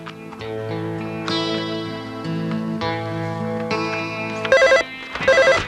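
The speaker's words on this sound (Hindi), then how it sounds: "प्लीज नबील का फोन होगा।" A telephone rings over background music, the electronic trill arriving in two short bursts near the end.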